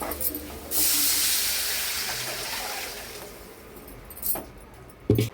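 Hot tempering poured into a tamarind tomato curry erupts in a loud sizzling hiss that slowly settles, followed by a couple of sharp clanks from a vessel or ladle.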